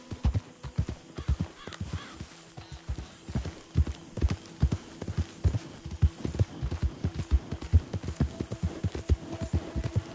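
Horse hooves clip-clop in the video game Red Dead Redemption 2, a steady rhythmic walking gait of many close, distinct thuds over a low hum.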